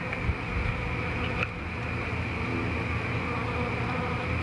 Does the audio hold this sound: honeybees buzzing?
yes